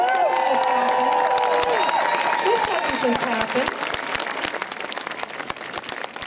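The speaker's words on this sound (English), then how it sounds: "Let's give them a round of applause" Large outdoor crowd at the World Pride 2014 opening ceremonies in Toronto applauding and cheering loudly and steadily, with whoops and shouting mixed into the dense clapping and a voice speaking over the noise.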